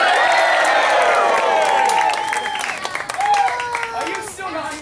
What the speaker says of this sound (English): And all of you cheer.